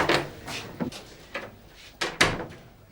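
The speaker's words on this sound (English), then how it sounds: "Close the door." A door in a 1990 police station office is pushed shut with a few dull wooden knocks and clunks, fairly close and with no talking over them.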